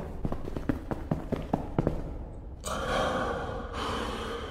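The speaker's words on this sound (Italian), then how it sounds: "Lo sentite come mi stava respirando sulla schiena come un maniaco?" A creature's heavy breathing behind the player in a horror video game: a run of short rhythmic puffs, then two long hissing exhales, close and fairly loud.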